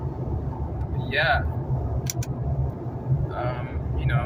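A car's engine and road rumble run steadily through the whole stretch at night, while someone speaks in short bursts over the low, continuous drone.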